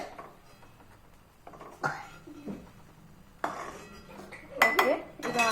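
Green chilli and tomato chutney being pounded by hand in a kitchen, with intermittent knocks, scrapes and clinks of utensils that grow louder and busier toward the end, no talking.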